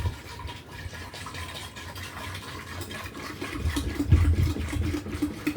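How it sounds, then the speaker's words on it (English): A gallon of milk glugs and splashes as it is poured into a jug, a steady close liquid pour with bubbling that grows fuller and louder toward the end. "I'm adding a gallon of milk"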